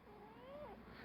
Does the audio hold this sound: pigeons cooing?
no